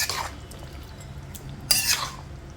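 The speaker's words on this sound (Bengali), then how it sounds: "ভালো করে নেড়ে নেব" A spoon scrapes and stirs chicken curry with fried potatoes in a pot, two brief bursts of metallic scraping near the start and end over a quiet kitchen hum.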